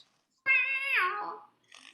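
A single long cat meow rings out during the Chad Gadya song at a community Passover seder. It is close and clear, with its pitch bending downward as it fades, followed by a brief faint noise.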